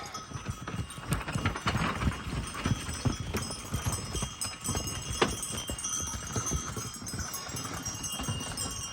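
A horse walks steadily outdoors, its hooves clip-clopping in an even rhythm close by, with rustling ground noise and faint background sounds around it.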